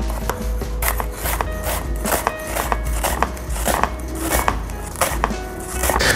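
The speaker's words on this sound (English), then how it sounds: "put your knife against it, and start cutting into thin pieces" Beef cut into thin slices with a knife on a board for beef rolls, a run of close, regular chopping taps over a quiet kitchen hum, with no talk.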